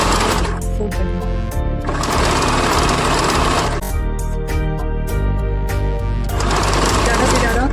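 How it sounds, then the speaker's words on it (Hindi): A sewing machine stitches the hem of bellbottom palazzo pants in loud, rapid mechanical bursts that start and stop several times, with someone talking over the stitching. "तो इस तरह से हम लोगों ने मोहरी को सिलाई कर रहे हैं और ये फिनिश है।"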